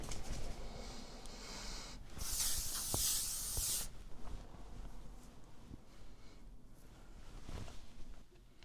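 L'Oreal Infallible makeup setting spray hisses in one strong spray burst of roughly a second and a half, standing out loud and close against a quiet room.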